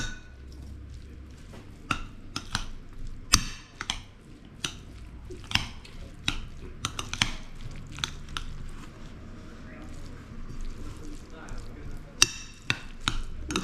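Basmati rice salad being stirred in a bowl, with soft scattered clicks and light scraping taps of a utensil against the bowl, close and fairly quiet over low background hum.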